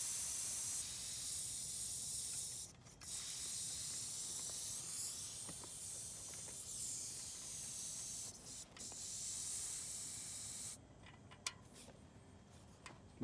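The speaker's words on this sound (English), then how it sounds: "Air it up, let the air out, air it up, let the air out." A bike inner tube being inflated and deflated gives off a continuous close hiss of rushing air. The hiss breaks briefly a few times and fades into quieter handling near the end.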